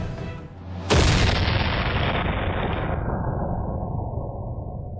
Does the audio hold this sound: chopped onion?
no